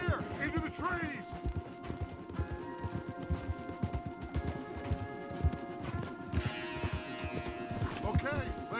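Several horses gallop hard through trees in Red Dead Redemption 2, with dense, rapid hoofbeats pounding steadily throughout, close and loud, with faint creaks and a brief whinny over the running.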